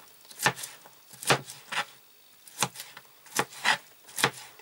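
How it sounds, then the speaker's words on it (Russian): A Kizlyar Military knife chops through cucumber and tomato for a salad, making about nine crisp, close blade strikes against the cutting board in an uneven rhythm, with no voices. "И как, в принципе, он достаточно мягко, да, врезался в помидоры."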